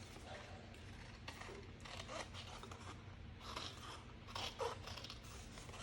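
Scissors snip through paper scraps while trimming a design for a handmade card, giving several soft, close cutting and scraping strokes in irregular bursts over a low steady background hum.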